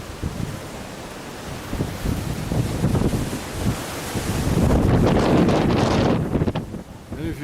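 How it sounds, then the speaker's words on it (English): Wind gusts buffet the microphone outdoors, a rough, roaring rush that swells louder midway, with a few faint voice-like bits underneath. "it's windy and it's raining"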